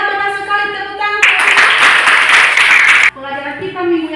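A classroom of pupils claps together in a dense burst of roughly two seconds, landing between stretches of a woman teacher's speech.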